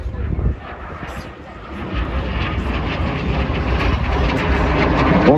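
A jet trainer with an uprated Rolls-Royce Viper engine, a Mark 58, flies a display and rolls at an air show in Ayr, Scotland. A loud, steady engine roar swells as it passes, while a commentator talks over it.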